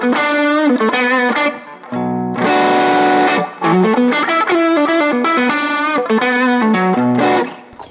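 An electric guitar through the dirty channel of a Deluxe amp with no pedal plays crunchy overdriven chords and riffs, with quick choppy strums around a sustained chord, close and loud with no talking.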